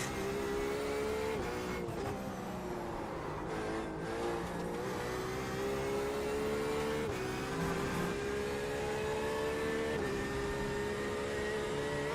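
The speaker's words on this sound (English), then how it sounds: "This Porsche GT is quite fun around this track" Porsche GT race car engine in the iRacing simulator, droning steadily at high revs throughout with shifting pitch and brief lifts as it works around a track, loud and continuous with no talk.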